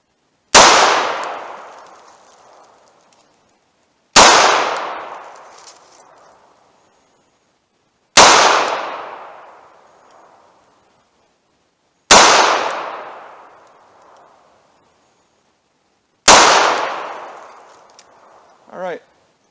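Five loud, sharp revolver shots from a .38 Special Model 342 firing 170-grain Keith lead semi-wadcutters, evenly spaced about four seconds apart, each with a ringing decay into quiet.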